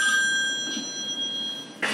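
A phone ringtone from the TV series Scream plays as a high sustained electronic tone with faint ringing overtones, fading slightly before a brief louder burst at the end, with no talk.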